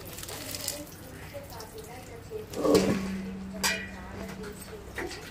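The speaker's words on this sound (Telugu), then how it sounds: "శుభ్రంగా కడిగేసి వాటర్లో వేస్ట్ గింజలు ఉంటే వెళ్ళిపోతాయి చూడండి" Horse gram rinsed and swished in a bowl of water in a home kitchen, a soft continuous watery sloshing with a brief louder splash midway, heard under a person talking.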